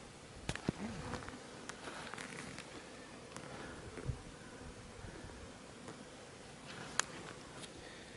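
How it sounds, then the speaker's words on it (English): Buzzing of many honey bees robbing three hives close by, a dense humming drone with occasional louder passes and faint taps. "there's bees trying to get into the hives, all three hives here now"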